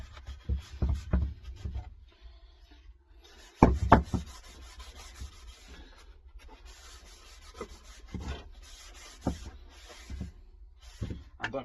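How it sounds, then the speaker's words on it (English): Kitchen towel rubs and wipes excess off a Christmas centrepiece, with soft scuffing passes broken by several sharp knocks and taps on a hard surface, close and intermittent over a quiet room. "Just gonna get some kitchen towel, just box down a kitchen towel, and I'm just gonna wipe off any excess"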